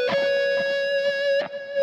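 Electric guitar repeats a three-note figure, the second through fourth notes of a lick, as a few clearly picked notes over a sustained tone, alone with no talking.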